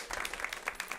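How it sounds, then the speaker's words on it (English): Conference audience applauding, a short burst of scattered hand claps from a crowd, fairly soft and even, heard briefly without speech. "Give him a round of applause."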